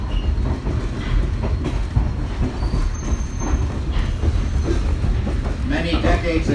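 A Mikado steam train rolls steadily along rails in the Connecticut Valley, its continuous rumble and wheel clatter filling the scene up close, with a faint high squeal rising briefly midway.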